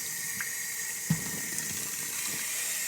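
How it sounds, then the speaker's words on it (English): Tap water runs steadily into a sink while elephant ear bulbs are rinsed, with a soft clunk of handling partway through and no talking. "Getting a little bit more water. We're going to rinse it really, really good."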